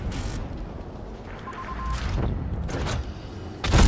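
Tank cannon shots in the mobile game World of Tanks Blitz: a loud boom at the start and another near the end, with a brief tone and softer rumbling impacts between them.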